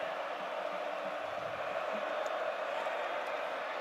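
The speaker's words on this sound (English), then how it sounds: "crowd noise when you get down close to the red zone" Crowd roar at a college football stadium during a Michigan State at Indiana game, a broad, steady wash of fan noise that holds evenly for the whole stretch, distant and diffuse with no clear voices on top.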